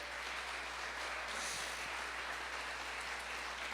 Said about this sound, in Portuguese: E as palmas é para o nosso Deus.